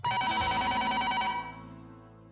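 A telephone ring tone sounds on an outgoing call in a scene from the Hindi TV comedy Taarak Mehta Ka Ooltah Chashmah: a loud, bright electronic ring that fades out and decays after about a second and a half.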